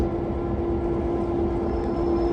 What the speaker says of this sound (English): It was originally built as a GP7 type locomotive